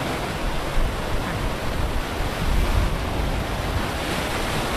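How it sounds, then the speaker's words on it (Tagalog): Strong surf rolls in at Boracay's White Beach during high tide, a loud, continuous wash of breaking waves with wind buffeting the microphone and no voices. "grabe yung tubig dun, oh. Ang lakas."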